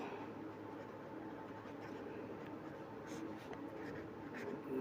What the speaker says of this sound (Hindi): इसके बाद में हमें लिखना है